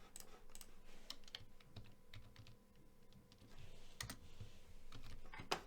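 Typing on a computer keyboard, a steady run of quiet, close key clicks and taps with brief irregular pauses and no talking.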